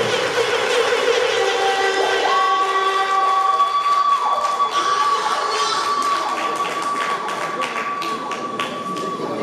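Crowd clapping and cheering at an anniversary celebration, continuous and fairly loud throughout, with steady tonal sounds running through the crowd noise.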